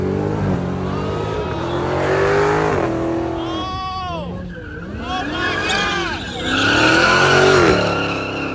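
At a Houston slab-scene block party, a car downshifts and revs repeatedly, engine pitch swooping up and down with squealing tires and sliding whines, loud and close, while people talk nearby.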